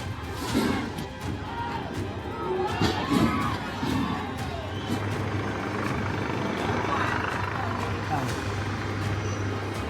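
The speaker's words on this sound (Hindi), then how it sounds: "मंत्री के घर पर हेलीकॉप्टर उतारा गया" A helicopter lands at a minister's house in Kathmandu, Nepal, during violent protests. Its steady rotor drone runs beneath a noisy crowd with shouting and cheering, with some banging and crashing near the start.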